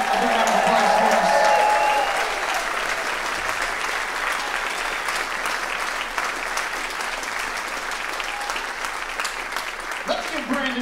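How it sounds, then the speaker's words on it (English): A concert audience at a big band and chorus evening show gives a long, loud round of applause, dense steady clapping that fills the hall, with a voice talking over it at the start and end. "give the Dr. Phillips Center team a big round of applause for us?"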